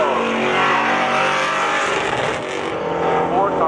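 A 2002 Ford Mustang drag racing at a spectator drag finale, its engine a loud, sustained roar up close that shifts slightly in pitch as the car pulls away, with a commentator's voice running over it.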